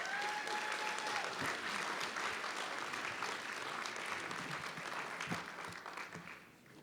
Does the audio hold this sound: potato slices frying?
no